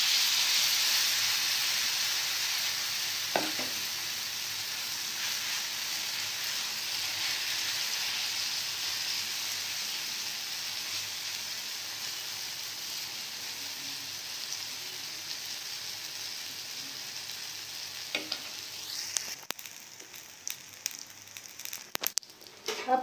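Cabbage roti frying in hot oil on a tawa, a continuous soft sizzle that slowly fades, with a couple of brief sharp spikes and scattered clatter toward the end.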